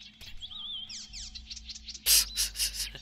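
Birds chirp and tweet in a mountain level of the video game Assassin's Creed Chronicles China, quick rising and falling whistles over a low game drone, followed by louder bursts of bright chirps toward the end.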